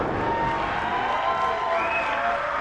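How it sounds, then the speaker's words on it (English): A wrestling arena crowd roars in a dense, sustained wall of cheering and shouting, loud and unbroken throughout, with no single voice standing out. "Listen to this crowd cheer for Ace Carmichael and his devious tactics"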